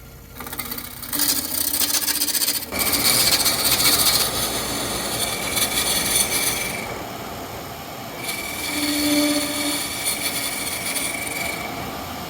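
Oak firewood spinning on a Turncrafter Commander wood lathe, shaped into a small fish bat, gives a steady close scraping and rasping of tool on wood that shifts in tone as the cut changes, with no talking.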